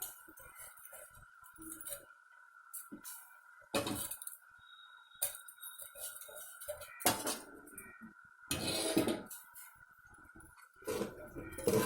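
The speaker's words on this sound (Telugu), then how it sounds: "కడిగి ఉంచుకున్న 1/2 కేజీ రైస్ కూడా వేసుకోవాలి." Half a kilo of washed rice going into a pot of chicken kofta biryani, heard as scattered metallic clinks and scrapes of a vessel and spoon, with short bursts of rattling and pouring between quiet pauses.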